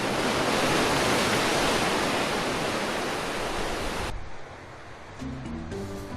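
Rough ocean waves crash loudly and continuously against a rocky, cliff-lined Galapagos island shore, a dense roar of surf that suddenly drops away toward the end.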